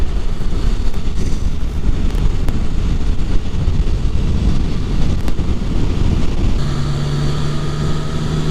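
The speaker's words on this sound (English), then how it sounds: "Windy." Strong wind buffets the microphone at a waterfall viewpoint, a steady loud rumbling gust throughout with a faint hum entering near the end.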